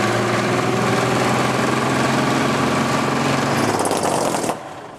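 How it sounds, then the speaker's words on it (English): A skip truck's engine on a roadside restart roars loud and harsh for several seconds with a rattling, straining clatter, then abruptly drops away as it fails. "The engine blew up,"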